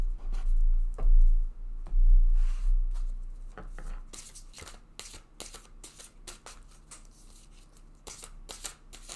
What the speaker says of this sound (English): let's take a card from each of these oracle decks